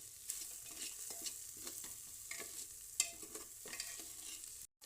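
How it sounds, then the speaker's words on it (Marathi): Chopped green chillies sautéing in a pan, a soft continuous sizzle with light scraping strokes of a stirring spoon, fairly faint and close, no voices. "मिरची आता आपण परतून घेऊया।"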